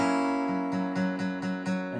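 A guitar chord from a song, fingered with the middle finger down and the pinky lifted, is strummed close up in a steady repeated rhythm of about six strokes, ringing on its own.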